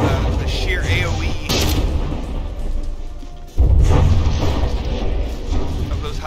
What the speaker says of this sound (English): High explosive secondaries